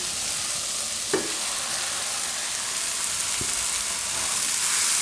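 Potatoes going into cooking tomatoes in a pan for Gujarati onion-potato shaak, a dense, even sizzle close up with a couple of soft knocks of the spoon and no talk.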